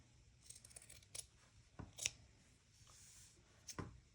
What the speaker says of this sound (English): what I like to do is cut out the big shape first